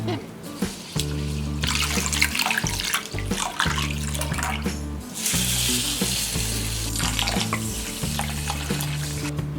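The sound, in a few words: washing urad dal and barnyard millet in water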